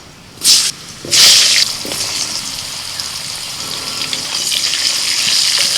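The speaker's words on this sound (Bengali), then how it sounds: "ওই তেলের মধ্যে আমি আলুটা দিয়ে দিচ্ছি" Potatoes drop into hot oil and start frying: two sharp hissing bursts as they go in, then a softer, steady sizzle that grows slightly louder toward the end.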